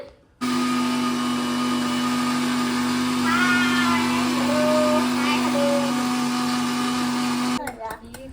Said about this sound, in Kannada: ತಗೊಂಡು ನಾನು ಮಿಕ್ಸರ್ಗೆ ಹಾಕೋತೀನಿ ಇದನ್ನ